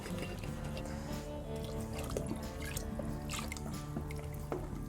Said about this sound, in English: Basically put the water back into the roux to get all the roux out of it.